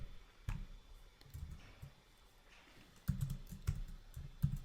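Someone types a database password on a computer keyboard, in two clusters of quick, close key clicks with a short quiet stretch between them.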